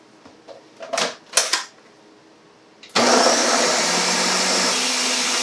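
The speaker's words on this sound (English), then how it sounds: "throw it in the blender, blend it up until it's nice and smooth" A blender whirs on loudly and steadily, blending salsa verde, after a few seconds of clinking and handling noises, running continuously to the end.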